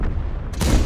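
A Soviet heavy tank cannon fires in a tank video game, one sharp loud boom bursting in near the end after a low rumbling engine bed.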